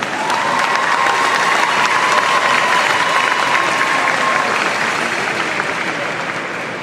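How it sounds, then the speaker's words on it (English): Audience applause for graduates at a class of 2026 ceremony, a loud, steady crowd clapping that holds evenly for several seconds before easing slightly at the end. "So please, a round of applause for them."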